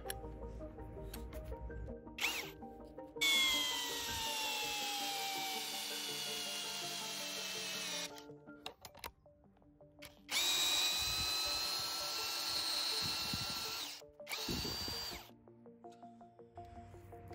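Parkside Performance PSBSAP 20-Li C3 cordless hammer drill running at speed one, loud whining bursts of drilling separated by short pauses and clicks, the pitch slowly dropping under load.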